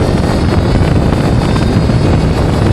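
Stark Varg SM Alpha electric motocross bike running at 70 horsepower, a loud steady rush of motor whine and wind noise held at full pace throughout.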